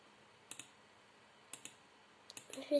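Command typed on a computer keyboard for a Minecraft game, heard as a few sparse, quiet key clicks in small pairs, then a quicker burst of keystrokes at the end, with no speech.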